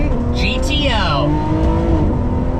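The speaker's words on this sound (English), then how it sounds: "twist it all the way, and fire up that V12" A Ferrari 599 GTO V12 engine starts and revs loudly, the pitch sweeping up and then settling into a throaty idle, close by.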